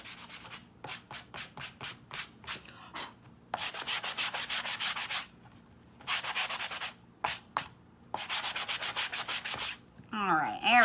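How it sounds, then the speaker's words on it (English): A worn sanding sponge scrubs over a painted Dollar Tree Easter bunny, making loud, rapid back-and-forth rasping strokes in bursts separated by short pauses, close up with no talking. "This sanding sponge needs some more life."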